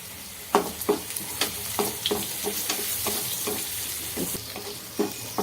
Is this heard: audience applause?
no